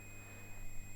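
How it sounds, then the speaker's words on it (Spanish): A multimeter gives a steady, unbroken continuity beep when its two probe leads touch, a single sustained electronic tone that is faint and alone. "emite un sonido, un pitido. Eso significa que hay continuidad."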